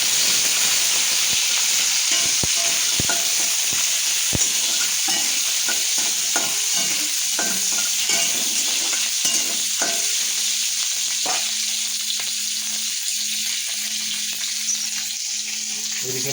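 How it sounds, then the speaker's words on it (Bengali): Crab pieces and claws fry loudly in a hot pan with chilli and spices, a steady bright sizzle broken by sharp scraping knocks as they are stirred. "তারপর কেটে রাখা কাঁকড়া এবং কাঁকড়ার দাঁড়াগুলো দিয়ে দেওয়া হলো।"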